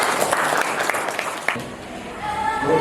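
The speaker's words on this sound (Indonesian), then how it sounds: "Beri tepuk tangan dulu untuk semuanya" An audience at a National Teachers' Day appreciation event applauds everyone, dense clapping that is loud at first, then thins and softens after about a second and a half.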